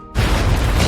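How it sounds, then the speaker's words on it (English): A sudden blast erupts as an explosion breaks through a security gate in a high-tech prison film scene, a loud, dense boom that hits abruptly after a brief quiet and keeps rumbling. "They create an explosion"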